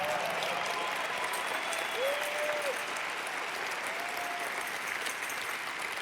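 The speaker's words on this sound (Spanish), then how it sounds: "Yo creo que tú le puedes dar un mejor aplauso al Señor." Congregation applauding in a church during a sermon, sustained clapping from many hands at moderate distance, with faint voices rising briefly in the background.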